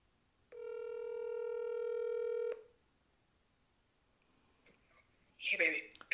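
Phone dialing out on a call: a steady electronic ringback tone lasts about two seconds, then quiet, then a faint voice near the end.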